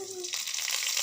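Curry leaves and dried red chillies fry in a hot pan, giving a brief, close, steady sizzle and crackle.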